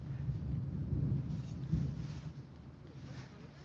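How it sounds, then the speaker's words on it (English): A big thunder roll rumbles low and distant during a storm at a horse rescue, a dull continuous rumble swelling and fading over a few seconds, faint and without speech. "we just had a big thunder go"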